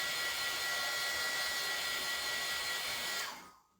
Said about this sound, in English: let's use the dryer here